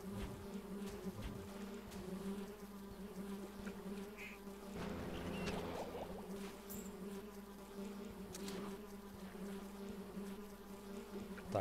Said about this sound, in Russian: давайте на вас пошлем ос